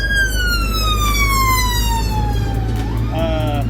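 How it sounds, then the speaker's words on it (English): Loud emergency sirens wail continuously in a UK street, one tone sliding slowly downward while another joins near the end, over heavy low traffic rumble. "Wait for the sirens."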